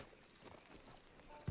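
Horse hooves clip-clop faintly and steadily in Red Dead Redemption 2, a low, even walking rhythm beneath ambient noise, ending with one louder low thump.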